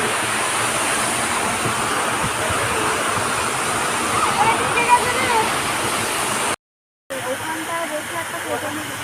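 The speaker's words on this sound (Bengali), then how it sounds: "এই যে অনেক উপর থেকে একটা ঝর্ণা, হ্যাঁ, একটা পাতলা জলের ঝর্ণা, অল্প জলের ঝর্ণা" Thin waterfall falling from high up near the Dawki river in Meghalaya, a continuous broad rushing hiss heard from a boat, steady and fairly loud, briefly interrupted near the end before resuming.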